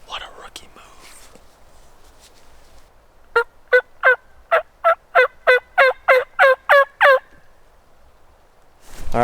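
A wild turkey tom gobbles close by, about 25 yards away during a spring hunt: about a dozen sharp, evenly spaced bursts in a rapid rhythmic run, with soft whispering from people before it.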